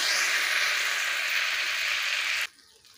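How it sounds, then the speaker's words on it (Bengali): Potatoes fry in hot oil left over from frying fish, giving a loud, steady hiss and crackle that cuts off sharply, leaving faint background noise. "এবারে মাছ ভাজার ওই তেলেই আলুগুলোকেও ভেজে নেব।"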